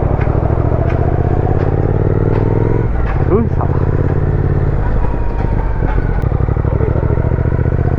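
A Triumph Speed Twin 1200 motorcycle engine runs loud and close on a Kolkata road. A dense, continuous throb shifts pitch briefly partway through, with voices talking over it.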